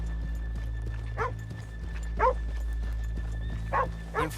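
Horses in Red Dead Redemption 2 with soft clip-clop hoof steps and occasional snorts or light vocal bursts spaced every second or so over a steady low hum.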